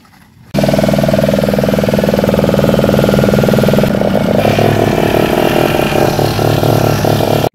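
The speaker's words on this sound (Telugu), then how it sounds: "ఇంకొకరు పట్టుకోవాలి, అప్పుడే ఇంజిన్ స్టార్ట్ అవుద్ది." A fishing boat's engine catches and settles into a loud, steady running drone close by, with a slight change in pitch partway through and the sound cutting off abruptly at the end.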